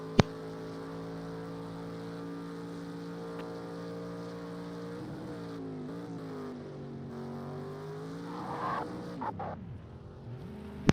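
Onboard sound of a Group C race car lapping Road America in a racing video game: a steady, loud engine drone holds for several seconds, then pitch dips and rises through downshifts and braking with brief tyre scrubbing near the end.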